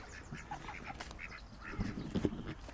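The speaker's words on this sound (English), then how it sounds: "I had little boards in there to stop the ducks going in and stealing the chickens' food because ducks are greedy." Farm ducks quack in scattered bursts during the morning poultry feeding, moderately near and fairly faint, with several calls overlapping and no talk.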